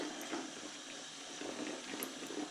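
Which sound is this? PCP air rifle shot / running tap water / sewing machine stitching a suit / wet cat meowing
running tap water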